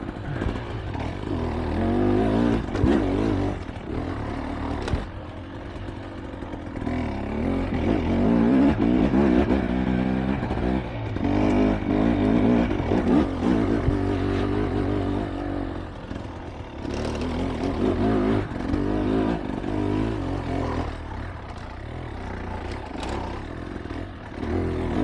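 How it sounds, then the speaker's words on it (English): Dirt bike engines grunt and rumble steadily at the 2024 Vedder's Revenge off-road ride, a dense, continuous low drone that swells and eases for the whole stretch, with no talking. "Boy, these bikes grunt well, don't they?"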